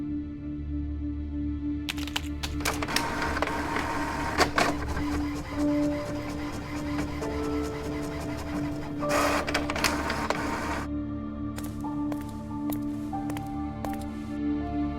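A printer in the Monolith video game runs a card through, with whirring feed motion, rapid mechanical clicks and ticks, and a couple of louder bursts of print-head activity, close and clear.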